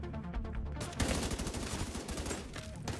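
Enemy gunfire in The Division 2, rapid bursts of automatic shots crackling in a dense, sustained volley that jumps louder about a second in and keeps up without pause.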